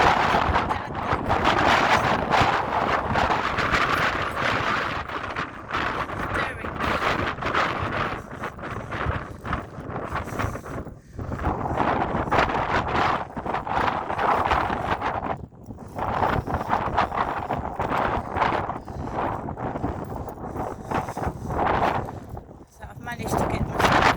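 Strong gusting wind buffets the microphone on an outdoor walk, a loud continuous rumble and roar with repeated bursts and brief lulls, and a person talks under it.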